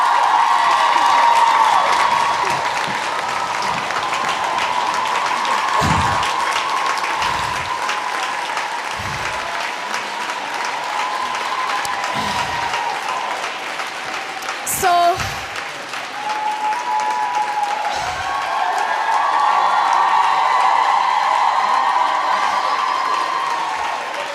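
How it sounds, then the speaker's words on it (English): A standing audience claps continuously and loudly through the whole stretch, steady dense applause with a few sharper claps, while a voice talks over it now and then. "You stand up and clap for someone and they don't want to go."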